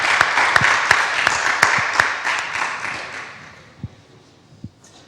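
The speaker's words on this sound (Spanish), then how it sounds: "les iba a invitar a un aplauso de agradecimiento y bienvenida" An audience at a lecture event applauds in thanks and welcome, a dense wash of clapping from many hands that fades out, leaving a few last scattered claps.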